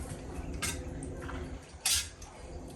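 Metal ladle scraping and clinking against a pot while scooping water out of potato soup, a few short sharp knocks with a louder clatter near the end, close and fairly quiet.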